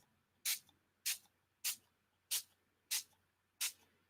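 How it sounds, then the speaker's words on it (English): A water spray bottle lightly mists washi tape, six short evenly spaced hissing spritzes, close and crisp with quiet pauses between. "I'm just going to lightly spray it."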